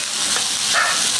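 Steady sizzling of stingray fish frying in a pan with faint scraping as it is gently stirred, continuous and close.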